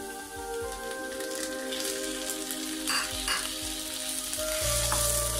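Tomatoes are added to browned onions frying in a pan for egg chilli, giving a steady crackling sizzle with spoon scrapes, and the frying grows louder and fuller near the end.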